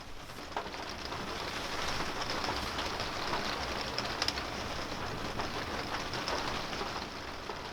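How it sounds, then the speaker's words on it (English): Rain falls on the roof of an off-grid camper in the Swedish wilderness, a steady, even hiss of drops pattering continuously at a constant moderate level throughout. "The sound of the rain on the roof is almost meditative, and we usually just relax and enjoy it."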